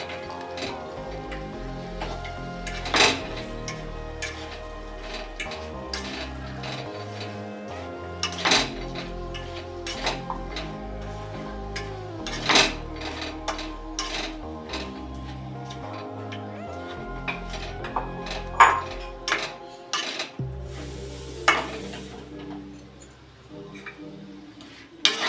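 Chopped bottle gourd tipped into a hot pan of fried spices, with repeated metal clinks and scrapes of a spoon against the pan over a soft, steady frying hiss, close and fairly quiet.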